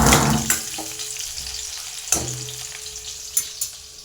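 Garlic and curry leaves sizzling as they sauté in a pan, a steady frying hiss close by with a few sharp clinks and stirring scrapes, no talk.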